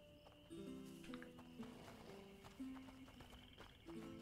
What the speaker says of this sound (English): Let's go pet the horse.